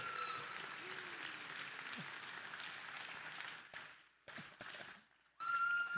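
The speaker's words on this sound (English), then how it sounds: "Help me give a warm round of applause to Joseph Dio, Hazoro Mortgage." A crowd applauds a mortgage professional called up at an award presentation: a dense, sustained wash of clapping with scattered whistles, then it breaks off into brief gaps and bursts before swelling loudly again at the end.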